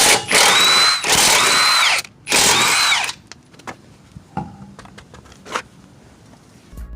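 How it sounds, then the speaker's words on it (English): Rapid bursts from a power tool, likely an impact wrench, loosen a wheel lug nut on a 2003-2008 Infiniti FX35 using a 21mm socket. Three loud, close bursts are followed by quiet clinks of the socket and nut. "you'll need a 21mm socket to remove the lug nut"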